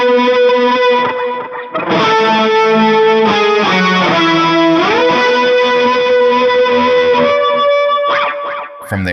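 A distorted electric guitar plays a slow melodic lead line from a song, single sustained notes bending and sliding, loud and up front with no talking.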